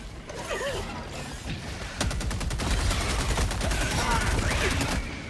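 A weapon magazine is swapped in the shooter game Helldivers 2, mechanical clicks and metallic ratcheting over rapid automatic gunfire and a busy battle soundscape, moderately loud throughout.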